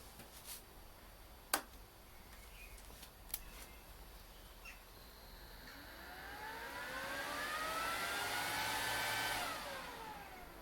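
An ESAB Rogue ES150i welding machine powers up with a couple of sharp clicks, then a rising whirring fan-like hum that swells and fades, heard alone in a quiet room.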